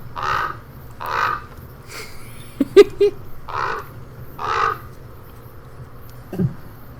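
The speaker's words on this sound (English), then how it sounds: "you just hear somewhere outside the tent, in the trees, some raven lowly caw" A raven caws low and slow outside a tent among trees, several separate calls spaced a second or so apart, moderately near, with a few faint clicks between them and no talking.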